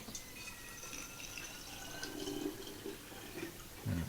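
Walnut hull ink trickles and splashes quietly through a funnel into a bottle, a soft uneven liquid pour at close range that swells slightly toward the end.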